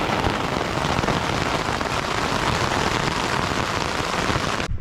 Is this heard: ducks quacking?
no